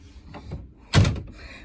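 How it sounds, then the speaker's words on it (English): Closet door in a cruise ship balcony cabin on the Star Princess, opening with a sharp clunk and brief rattle after some faint handling noise, close and clear. "that light comes on when you open the door"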